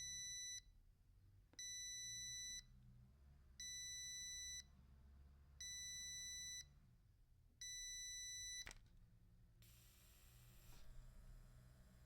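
An ozone generator for a car beeps five times in evenly spaced, steady tones, each about a second long, over a low continuous hum. A faint, higher-pitched noise follows as the unit kicks on.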